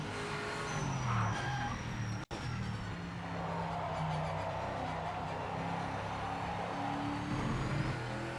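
A racing car in the Project Motor Racing video game hits a wall with a sharp, violent impact, amid loud engine drone and tire skidding, followed by a brief dropout and then continued engine noise and scraping.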